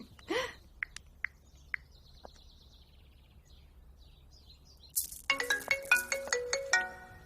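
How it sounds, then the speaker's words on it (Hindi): A mobile phone ringtone breaks out after several seconds of near-quiet room sound with a few faint bird-like chirps, playing a bright repeating electronic melody in quick pulses, fairly close and clear. "ओह, फोन।"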